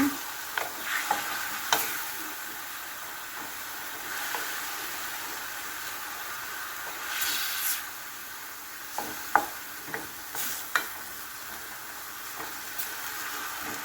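Chicken tinola with papaya and malunggay is stirred in a pot over a continuous sizzling, steamy hiss. Intermittent ladle scrapes and clinks against the pot sound close, with no voices.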